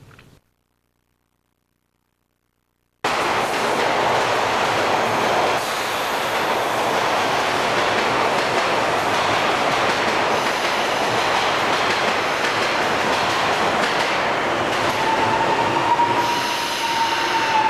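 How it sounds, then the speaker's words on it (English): A Toronto subway train on the Bloor-Danforth line runs steadily along the rails after about three seconds of silence, a loud continuous rumble with a thin wheel squeal rising near the end and no voices. "Many new types of subway work cars, such as the wall washing train, were purchased to maintain the subway system."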